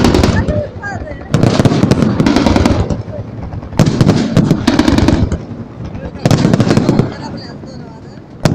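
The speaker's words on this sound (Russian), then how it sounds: "Салют на вас падает" Fireworks salute at a rehearsal, bursts of rapid crackling bangs in three loud clusters separated by short quieter gaps, with people talking excitedly throughout.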